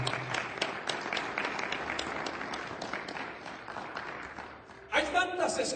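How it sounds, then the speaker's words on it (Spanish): A congregation claps together during a church sermon, sustained moderate applause with distinct hand claps, ending in a brief louder burst as a voice begins speaking. "¿Cuántos pueden dar un aplauso a la palabra del Señor?"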